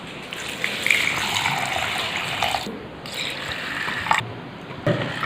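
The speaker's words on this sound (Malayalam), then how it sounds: "രണ്ടേകാൽ കപ്പ് വെള്ളം ഞാൻ ഇതിലേക്ക് ഒഴിച്ചു കൊടുക്കുകയാണ്" Two and a quarter cups of water pouring and gushing into ground rice batter for palappam, splashing steadily with a few brief breaks and bubbling bursts.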